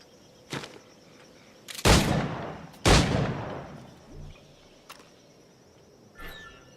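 Two heavy booming gunshots from a flintlock firearm in Assassin's Creed IV Black Flag, with a fainter shot before and after, each decaying with echo over a steady insect-like outdoor ambience.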